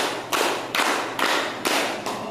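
A primary-school class claps in unison to a teacher's counted rhythm, five loud broadband bursts about half a second apart, each ringing briefly in the room with no voices between.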